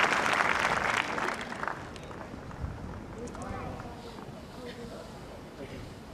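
A tennis crowd on court 2 applauds a shot during a first-set tiebreak between Nick Kyrgios and Dustin Brown, the clapping loud at first then fading quickly as a commentator talks.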